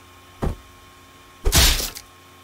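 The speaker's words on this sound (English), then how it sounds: "Okay, I guess hammer." A single heavy thunk, then a second louder hammer blow with glass shattering and crashing for about half a second, in the video game Henry Stickmin.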